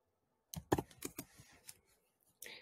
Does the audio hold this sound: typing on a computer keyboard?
yes